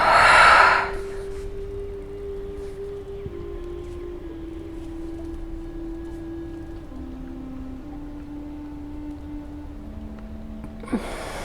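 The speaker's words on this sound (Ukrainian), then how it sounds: "І третій раз зі мною глибокий вдох, максимальний видих." Forceful exhale during yoga breathing for nauli kriya abdominal massage: one loud, close, breathy rush of air at the start, then near silence with a faint steady hum.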